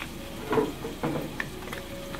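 Chili powder dropped into hot oil for a spicy pumpkin (kabocha squash) and shrimp curry gives a faint, soft sizzle that swells in a couple of brief bursts, then settles into a low fry.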